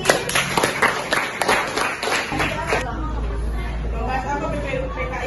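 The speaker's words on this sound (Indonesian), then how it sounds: "Oke, tepuk tangan buat Kevin." Classroom audience clapping, with a burst of claps over crowd chatter at first, then babble and low rumble carrying on after the clapping fades.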